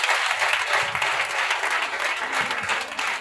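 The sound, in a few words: congregation applauding and cheering for Jesus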